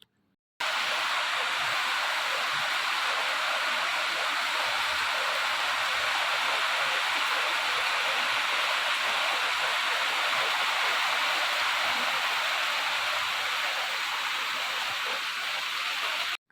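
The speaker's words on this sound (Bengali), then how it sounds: "অন্ধকার করে এসছে আবার খুব জোরে বৃষ্টিও হচ্ছে" Heavy rain pouring down steadily on a dark afternoon at home, a dense unbroken roar that starts abruptly and holds loud and constant throughout, with no voices.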